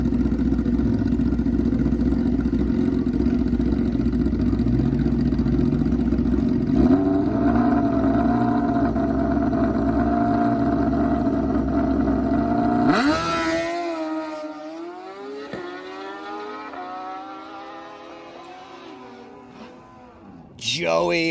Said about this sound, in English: We've got an S1000rr taking on the Kawasaki ZX-14r.